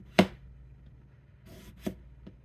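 Small kitchen knife cutting cucumber, a few separate chops with pauses between them: one sharp cut, then two lighter taps near the end, close and fairly quiet with no talking.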